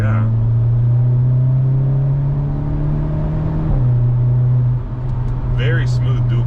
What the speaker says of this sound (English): Okay, so I noticed the exhaust is louder, that's for sure.